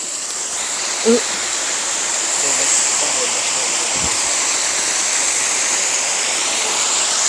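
Kham Hom waterfall in Sakon Nakhon, Thailand, gently flowing after the rains, giving a steady, even hiss of falling water close by, with a brief knock and a faint voice heard early on.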